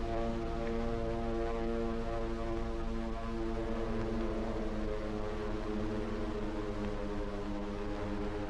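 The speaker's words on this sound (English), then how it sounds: "the drone of planes was faintly heard" Airplanes approaching over the Pacific at Pearl Harbor produce a continuous droning engine hum, steady and fairly loud throughout, with no voices.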